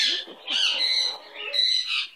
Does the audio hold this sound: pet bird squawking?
yes